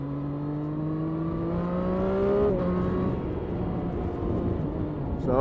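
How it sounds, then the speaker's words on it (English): Triumph Street Triple 765 R motorcycle accelerating onto a dual carriageway, engine tone climbing steadily in pitch, then a brief dip as it shifts and settles into continuous engine drone and wind rush, loud and close, without talking. "So obviously instantaneous acceleration up to the road speed here."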